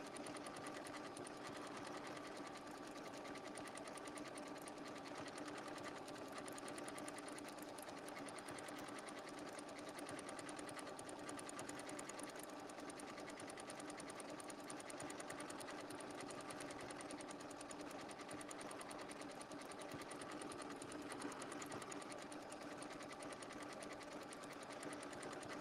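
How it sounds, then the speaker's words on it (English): A sewing machine stitching down binding with a circle sewing tool, running as a continuous, steady, fast mechanical whir and needle patter throughout, close and unbroken, without speech. "binding with the circle sewing tool. Not only just attach it, but stitch it down."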